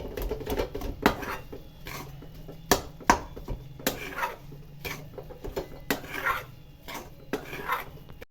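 Jaggery being stirred into rajgira flour in a pan for farali sukhdi, heard as repeated scraping and clinking of a spoon against metal, with irregular louder knocks and no talk.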